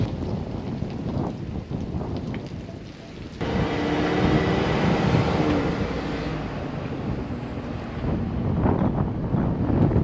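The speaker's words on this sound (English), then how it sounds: "So it is so windy out here, but I love the wind." Strong wind buffets outdoors on a lawn, roaring and gusting steadily and growing louder partway through, with heavy rumbling against the microphone.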